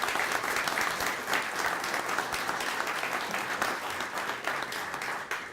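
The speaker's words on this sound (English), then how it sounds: "Give them a round of applause, please." An audience claps steadily at a governor's announcement of a new state highway commissioner, a moderate, even round of applause lasting several seconds without voices over it.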